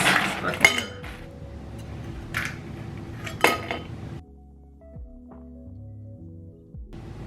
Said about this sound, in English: We're gonna add some ice.